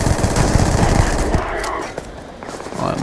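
The Kodama weapon in Starfield fires a rapid automatic burst, dense and loud, thinning out briefly before the shots pick up again near the end.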